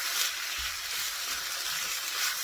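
Meat sears in a hot pan for stew, giving a steady, soft sizzling hiss throughout with no voices.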